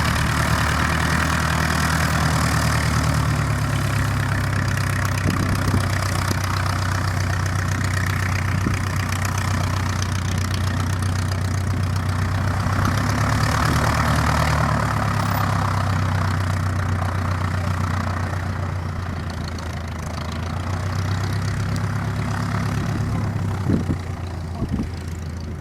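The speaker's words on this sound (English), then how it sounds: "Next it's turn for the chipmunk to go" A de Havilland Chipmunk light aeroplane engine idling on an airfield, a steady low throbbing drone that holds for a long stretch with slight swells in pitch.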